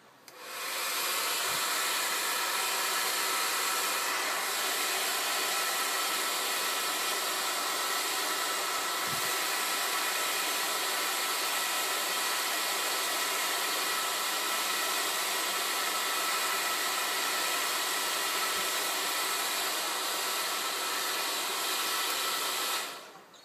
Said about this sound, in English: I'm just using a regular hair dryer, no heat gun needed